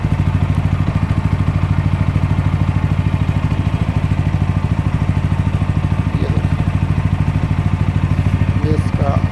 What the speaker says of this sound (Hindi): अभी आप महसूस करेंगे कि जो इंजन की स्पीड है वो धीरे धीरे नॉर्मल पे आके सेटल हो जाएगी